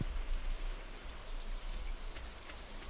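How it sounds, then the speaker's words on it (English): Steady rain ambience from the Stardew Valley video game, an even, close patter of drops that hisses continuously for the whole stretch with no voices. "Oh my goodness, it's a rainy day."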